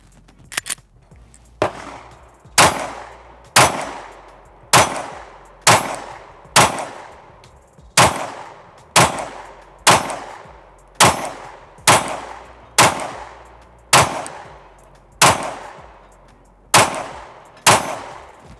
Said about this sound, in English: Two mags in and they work. So far, so good. Let's keep shooting.